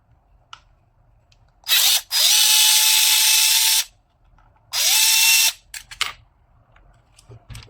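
Electric screwdriver backing out T10 screws from a TOTAL 4Ah P20S battery pack, two loud buzzing runs of about two seconds each, separated by short pauses and followed by small clicks and handling noises.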